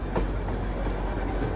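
A Darjeeling Himalayan Railway train runs along the track near Siliguri, giving a steady, moderately loud rumble with faint rhythmic clatter from the wheels, and no voices.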